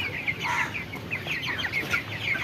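Several 26-day-old farm chickens cluck repeatedly while being lifted and weighed one by one, steady overlapping calls close by over a low background hum.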